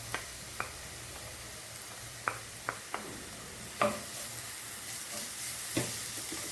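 Onion, garlic, ginger and chili sautéing in a pan for a Bahraini fish curry: a soft, steady sizzle with scattered taps and clicks of a utensil against the pan.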